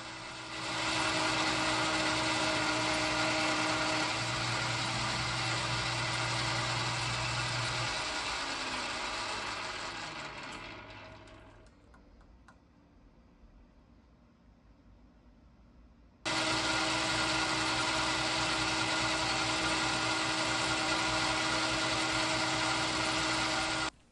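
A 1942 South Bend lathe turning down a steel backplate for a 6-jaw chuck, a loud steady mechanical whir with gear whine that winds down and nearly stops midway, then resumes abruptly at full level.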